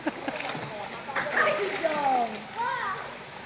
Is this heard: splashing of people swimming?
yes